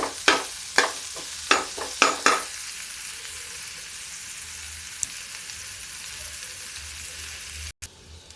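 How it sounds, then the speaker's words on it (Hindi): Onions frying in a pan toward a light brown, opening with several sharp spatula knocks against the pan, then a soft, even sizzle continuing alone at close range, ending with a brief click. "ब्राउनिश कलर आ जाना चाहिए, हल्का ब्राउन। ये प्याज मेरा भून गए।"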